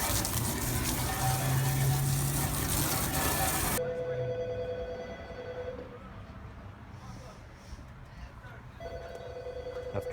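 Water hosed onto a rooftop HVAC unit to test for a rain leak, a loud gushing spray that cuts off abruptly, followed by quieter trickling and low voices talking nearby.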